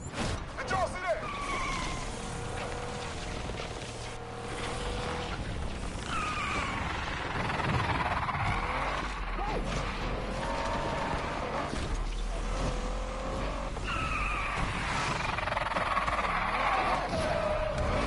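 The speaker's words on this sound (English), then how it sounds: "Moving in for a handbrake takedown." In the Need for Speed Unbound video game, a car skids through a handbrake takedown. Tires squeal and slide over a roaring engine and crowd-like game noise, loud and continuous, with a voice talking at times.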